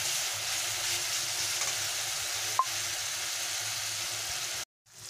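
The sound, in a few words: stirring and frying spices in a pan for egg korma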